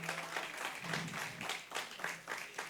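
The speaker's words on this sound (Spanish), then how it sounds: "Dale ese aplauso al Señor." A church congregation claps briefly in an irregular, fairly quiet burst, with a few louder individual claps standing out.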